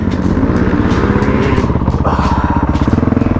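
A Honda CRF450L motorcycle riding on a motocross track, its engine a loud, close, continuous pulsing drone that rises in pitch partway through as the rider accelerates.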